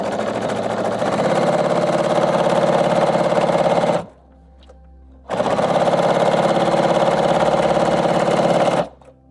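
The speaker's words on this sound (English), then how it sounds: "Now I'm just going to put it under the machine" A sewing machine runs in two steady bursts, stitching quilt pieces for a baby quilt, with a short quiet pause between the runs; the motor's hum and needle chatter are loud and close.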